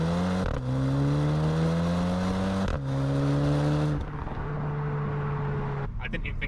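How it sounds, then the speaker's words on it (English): An Audi TT sports car engine revs up and drops sharply at each quick gear change, then settles into a steady drone that fades, heard close with some faint speech. "It's the best sounding shift I've ever heard."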